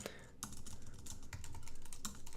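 Someone types quickly on a computer keyboard, giving a close, fast run of crisp clicking keystrokes, faint and uninterrupted.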